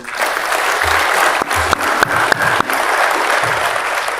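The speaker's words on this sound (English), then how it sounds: "I'm sure you'll all join me in giving them a very handsome round of applause" Sustained applause from an audience at a Supreme Court of India function honouring registry officials, with dense clapping throughout and a few sharper individual claps standing out near the middle.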